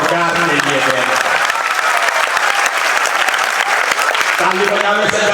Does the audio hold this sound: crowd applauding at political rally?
yes